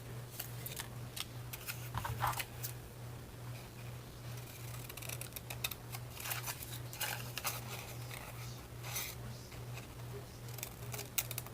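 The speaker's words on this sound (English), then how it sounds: "I love these scissors that I got." Quiet, repeated snipping of scissors cutting paper, soft crisp clicks scattered over a low steady hum.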